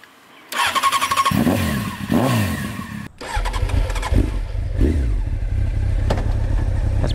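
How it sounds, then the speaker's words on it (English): A carbureted 1993 Honda CBR900RR Fireblade motorcycle coughs to life, then blips its throttle in sharp rising revs before settling into a loud, lumpy idle with further throttle stabs, close by and with no talk. "you gotta give it a little bit of inspiration to get it going off idle, but it springs to life easy enough"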